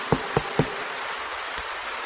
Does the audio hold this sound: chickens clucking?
no